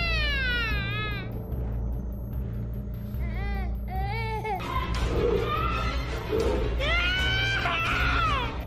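Shrill, wavering screams and yells that sound like young children's, several overlapping bursts rising and falling over a constant low rumble, with some talking mixed in.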